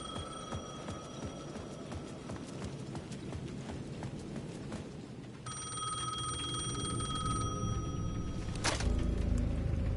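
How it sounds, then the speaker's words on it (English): A plaza payphone in a video game ringing with a steady metallic bell, moderately loud over rhythmic clip-clop footsteps, growing fuller about halfway through, with no talking. "the payphone at the edge of the plaza was ringing again"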